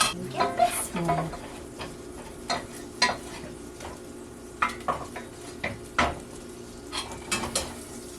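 Metal spoons clink and scrape in stovetop pots as butter melts for homemade mac and cheese, giving scattered light taps and stirring clatter over a faint low hum.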